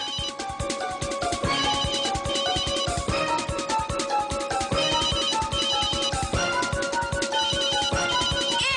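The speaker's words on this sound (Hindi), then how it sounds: "घंटी बज रही है। हमें भी सुनाई दे रही है।" A phone rings continuously with a loud, repeating melodic ringtone that fills the whole stretch without pause.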